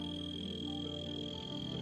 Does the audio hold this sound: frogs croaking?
yes